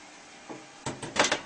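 Side panel door of a desktop computer case, fitted with a see-through window and a large fan, handled with a few plastic and metal clicks and knocks, close up and without speech.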